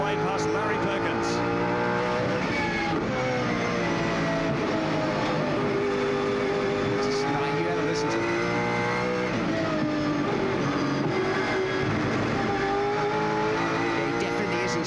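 A driver's Ford AU XR8 V8 Supercar races onboard at Eastern Creek in 1999, its engine roaring steadily and shifting pitch through gears as it chases Larry Perkins, with someone speaking briefly over the loud drone.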